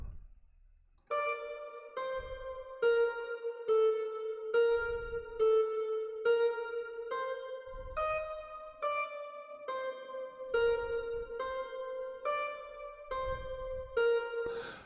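Star Power Guitar Punks 02, a GarageBand guitar loop, starts after a second of quiet and then plays a steady run of plucked guitar chords with regular attacks, clean and upfront, with only faint low thumps between notes.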